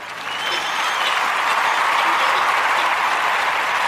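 Sustained, dense applause from an audience of a talk-show podcast, rising within the first half second and holding steady and loud to the end, with no talk over it.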